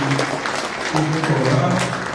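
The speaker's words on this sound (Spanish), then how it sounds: "yo quiero pedirle un fuerte aplauso para Margarita" An audience at a book presentation applauds under an ongoing voice, a brief spread of clapping heard at moderate level.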